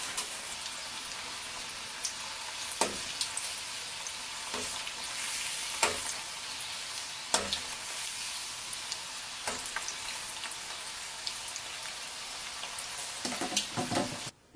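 Bread-crumbed fish fingers frying in moderately hot oil give a steady, close, soft sizzle throughout, broken by a few sharp clicks and taps, with no voices.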